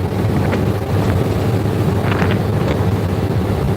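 A loud, constant low engine drone rumbles close by at the stern of a boat crossing the Mekong, mixed with wind buffeting and the wash of water, with no break throughout.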